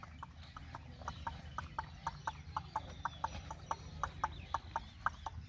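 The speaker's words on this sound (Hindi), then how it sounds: "घोड़ी है इस टाइम पूरे मस्ती जी डांस कर रही है" A mare dancing to clicking cues, her hooves striking in a steady, rhythmic clip-clop of sharp repeated beats, fairly close, with faint chicken clucks in the background.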